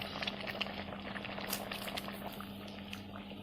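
Egg curry boiling in a pot, a quiet, close bubbling and gentle liquid popping that runs steadily throughout, with a faint low hum beneath and no speech.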